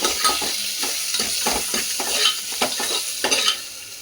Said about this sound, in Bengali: এটাকেও একটু কষাবো।